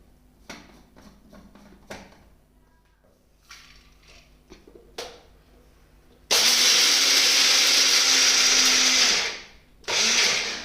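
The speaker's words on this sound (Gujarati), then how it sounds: "સૌ પ્રથમ આપણે આપણી શેકેલી સિંગ અને તલને એક મિક્સરમાં ક્રશ કરી લઈશું" Some clicks and handling, then a mixer grinder crushing roasted peanuts and sesame seeds roars loudly for a few seconds, stops briefly, and starts again.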